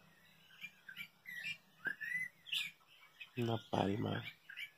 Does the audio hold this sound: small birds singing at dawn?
yes